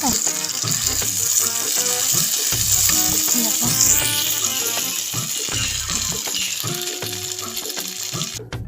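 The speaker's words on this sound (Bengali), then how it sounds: "এই দেখো আওয়াজ হচ্ছে তেল ছিটছে" Fish fries in hot, spattering oil outdoors under a blazing sun, a loud, close and continuous crackling sizzle with popping bursts and occasional stirring clinks throughout.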